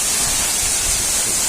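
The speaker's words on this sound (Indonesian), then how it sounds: "Ini dia air terjunnya guys" Coban Talun waterfall in Batu, Malang, pouring from a height: a steady, loud, broadband roar of falling water that fills the whole stretch evenly, with no voices over it.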